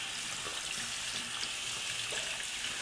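Water runs steadily into a sink as period underwear is rinsed clean, a soft continuous gush of the tap with faint splashing, fairly quiet and unbroken, without any talking.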